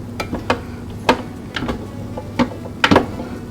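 Masala chickpeas roasting at 400 degrees are stirred, giving scattered dry rattling scrapes and clicks over a steady low hum, with a few louder clustered rattles near the end.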